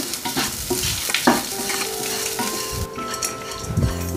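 Grated coconut roasting in a pan with coriander and ginger for thogayal, loud close sizzling with repeated spoon scrapes and clinks against the pan, under a faint electric hum.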